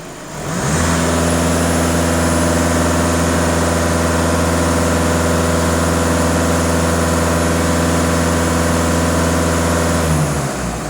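A Skoda Octavia A7 with a 2.0 TDI diesel engine is held at about 2500 rpm, a loud, steady, close diesel drone that rises in at the start and stays even before dropping away at the end.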